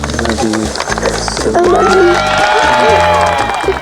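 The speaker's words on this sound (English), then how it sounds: "guests showered the newlyweds with applause, cheers" Wedding guests at an outdoor ceremony cheer and clap for the newlyweds, a loud crowd of whoops and shouts that carries on steadily over rhythmic calypso band music.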